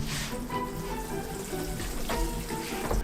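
Water splashes and trickles steadily onto balcony plants during watering, a soft continuous spattering close by with faint background clatter and no speech.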